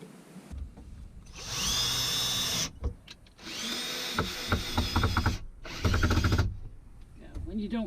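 Cordless drill driving screws into wood without pre-drilling inside a van build, several whirring bursts that rise and stall, with ratcheting clicks between runs and someone speaking briefly.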